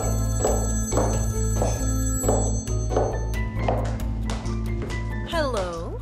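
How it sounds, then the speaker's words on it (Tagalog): A telephone rings repeatedly in a rhythmic pattern of evenly spaced bursts while a call is placed, with a steady tonal hum underneath and a sliding electronic chirp near the end. "Tatawagan ko lang si Halit"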